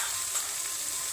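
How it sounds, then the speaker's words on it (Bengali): Fish sizzle in hot oil in a home kitchen, a steady, close crackling hiss with faint stirring, no voices. "এই দেখো আমার কতগুলো মাছ ভাজা হয়ে গেল"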